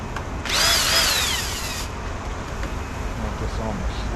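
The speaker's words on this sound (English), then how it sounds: "Hook my drill up." A power drill spinning chimney brush rods to clean a wood stove, a loud rising whine that runs for about a second and a half, then stops, leaving a low rumbling background.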